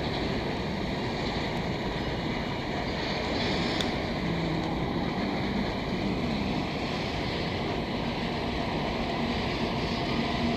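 Two CN diesel freight trains cross paths in a Montreal rail yard, giving off a constant, dense rolling roar of wheels on track with faint tonal squeals, heard from nearby without a break.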